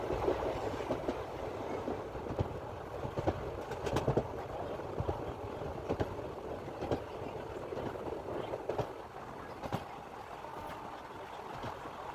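A train rumbles and clatters steadily along the tracks as it arrives at Sangli railway station, with rhythmic clicks of wheels and birds calling faintly in the background.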